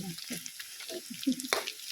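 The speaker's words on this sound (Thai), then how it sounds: "ทอดกับหม้อขาง" Food frying in a pot in a home kitchen, with a bright crackling sizzle and some stirring scrapes over about two seconds, close by, while a voice talks over it.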